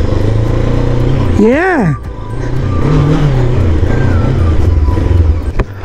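Loud vehicle engine on a Venturi, driven outdoors near a river crossing; a steady, close engine rumble runs throughout, with a brief rising-and-falling tone near the start and a short spoken word.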